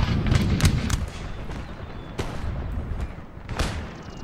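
Grenades and musket volleys in an Empire: Total War siege battle, a series of sharp cracking bangs and muffled booms repeating irregularly over a dense rumbling battle din.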